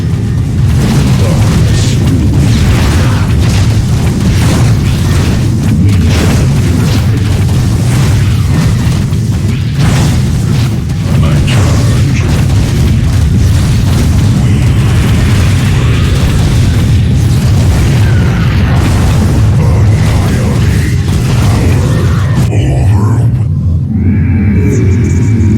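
Crystal blowing apart in StarCraft II: Legacy of the Void, a loud, continuous wall of booming explosions and deep rumble lasting throughout, with dense layered blasts and no pauses.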